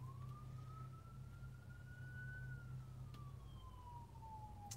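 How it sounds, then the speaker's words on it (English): A distant fire engine siren wails continuously, its pitch rising then slowly falling as it passes, over a low steady hum of traffic. "I'm just listening to sirens going by."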